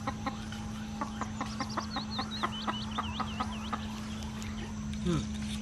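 A young hen clucks in a series of short, rhythmic calls close by, over a steady background hum, with a few higher chirps mixed in.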